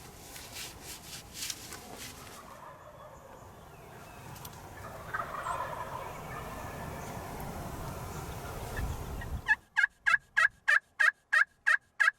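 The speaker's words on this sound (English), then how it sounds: "We're definitely gonna hear them gobbling." A wild turkey gobbles in Nebraska over steady outdoor rustling, ending in a loud, rapid run of evenly spaced, sharp calls close by.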